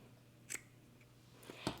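Scissors snip through twine tied around a bundle of harvested lavender, giving a few quiet, close cuts, with the sharpest snips near the end in an otherwise still room.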